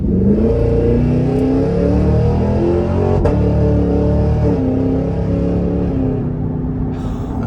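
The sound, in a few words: supercharged V8 engine accelerating, exhaust crackle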